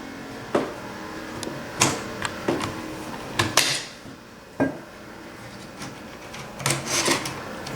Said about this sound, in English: I'm going to actually field strip this AK47